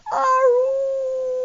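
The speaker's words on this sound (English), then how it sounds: "there was a terrible howl coming from outside" A dog howls outside a church in the middle of a sermon: one loud, sustained, wavering howl that rises sharply and then holds a steady pitch, with no talking over it.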